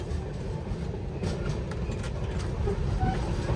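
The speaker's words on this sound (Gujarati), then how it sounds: "પાછી ગાડી ફૂલ સ્પીડમાં ઉપડી ગઈ છે" A train runs steadily at speed, a continuous low rumble and rattle of wheels on track with no pauses, fairly loud and close.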